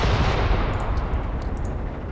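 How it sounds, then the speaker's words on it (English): Mortar salvo impacts in the war game Graviteam Tactics, a dense, continuous roar of rumbling blasts that stays loud throughout and eases off only slightly toward the end. "My mortars are landing."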